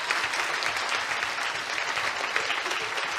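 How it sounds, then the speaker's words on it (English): Sustained audience applause at a festival show, dense and even clapping from a sizeable crowd that holds steady throughout without speech. "So please give them a round of applause"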